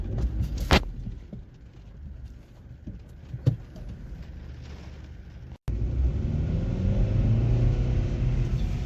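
A car with an Easytronic automated gearbox pulls forward, a low steady engine rumble that rises after a brief cut, with a few sharp clicks and knocks earlier, close and fairly loud, no speech.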